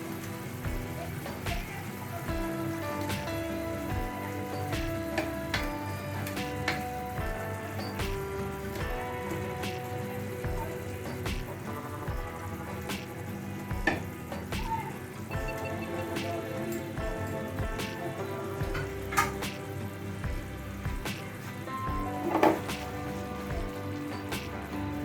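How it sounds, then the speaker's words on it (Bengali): Fried katla fish koftas added to a curry simmering on low heat, a steady crackling sizzle and bubbling with scattered sharp pops and splutters, continuous for the whole stretch and fairly quiet. "এখন এতে আমি ভেজে রাখা মাছের কোপ্তাগুলো দিয়ে দিচ্ছি"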